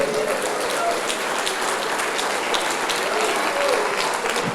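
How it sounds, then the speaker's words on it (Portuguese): Congregation in a church service applauding together, a dense, steady wash of many hands clapping at even loudness throughout, with no one speaking over it. "Você pode aplaudir ao Senhor por isso?"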